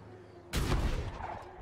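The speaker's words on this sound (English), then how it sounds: "Cannon!" Cannon blast in Baldur's Gate 3 strikes suddenly after a quiet stretch, one loud, close, booming impact with a rumbling tail that keeps ringing through the rest of the moment.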